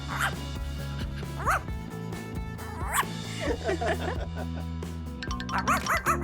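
A poodle lets out a run of short, high-pitched yips and barks at close range, spaced irregularly throughout, over continuous background music.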